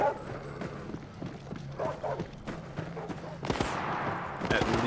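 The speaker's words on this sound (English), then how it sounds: "Now all these dogs are chasing me" A pack of dogs in the video game Stay Out barking and yipping in rapid overlapping bursts close by, mixed with game noise and gunfire-like cracks, continuous and fairly loud throughout.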